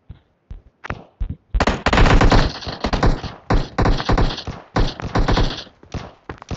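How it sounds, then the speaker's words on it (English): Gunfire in the video game PUBG Mobile starts with scattered single shots, then becomes loud, rapid automatic bursts with brief gaps in between. "Why are you guys shooting?"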